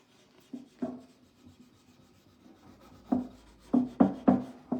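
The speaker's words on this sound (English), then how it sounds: "I am going to again take the polishing pad and just go very" A polishing pad rubs gently over a furniture transfer in a few soft, short scuffing strokes, faint at first and then a quick cluster of firmer rubs near the end.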